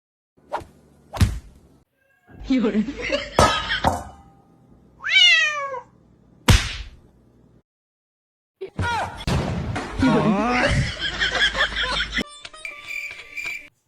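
A cat meows a few times in short separate cries, mixed with sharp clicks, rustles and bursts of other household noise.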